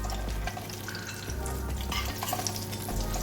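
Jackfruit nuggets fry in a pan of hot oil with a steady bubbling sizzle and occasional stirring scrapes, close up and moderately loud, with no one speaking.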